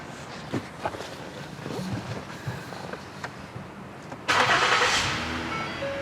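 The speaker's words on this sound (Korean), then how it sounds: "저는 시동을 한번 걸어보겠습니다" Quiet background with faint knocks, then the 3.5-litre engine of a 2013 Ford Taurus Limited with 70,000 km abruptly cranks and catches into a loud, steady idle.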